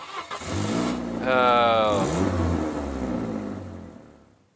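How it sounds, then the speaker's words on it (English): A car engine in the police-management game This is the Police revs up with a rising whine, fairly loud and near, with voices talking over it. "Oh, the car's working again."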